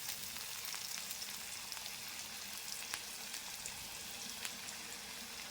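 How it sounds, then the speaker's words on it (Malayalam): Onions frying in hot oil give a steady, faint sizzle with scattered small pops and crackles, continuous and close, with no talking. "ചൂടായ എണ്ണയിലേക്ക് ഉള്ളി ഇടുന്നു."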